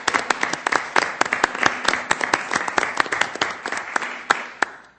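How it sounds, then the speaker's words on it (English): Lively applause from a council meeting audience for a group of young scouts, a steady patter of many hands clapping close by for several seconds. "A round of applause for these young people"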